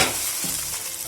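A Maggi noodle omelette sizzles steadily in a hot pan as it is flipped, with a brief soft thump partway through and the frying hiss continuing close and clear, with no voices.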